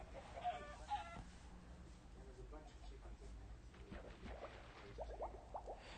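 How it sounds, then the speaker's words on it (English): Chickens cluck faintly in the Minecraft video game, scattered short clucks over a low background, with a voice talking quietly at times. "there's a bunch of chickens in there"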